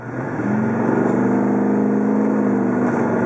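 A 2015 GMC Sierra 2500HD Denali truck engine accelerating, a steady, close drone that climbs gently in pitch over a few seconds with no talk over it.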